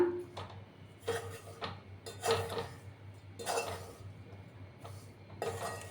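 Spoon scraping and clinking against a pan as wheat flour is stirred and roasted for atta panjiri, giving irregular metallic knocks and scrapes in short bursts over a low steady hum.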